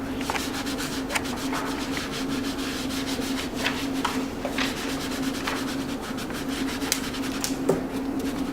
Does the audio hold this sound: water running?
no